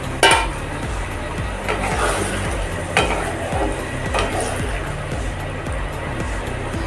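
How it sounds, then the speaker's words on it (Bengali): Water added to shol fish curry frying in a pan, a sizzle and bubbling with repeated stirring and metal utensil clinks against the pan, fairly loud and close throughout. "এবার এখানে আমি অল্প করে একটু জল অ্যাড করব।"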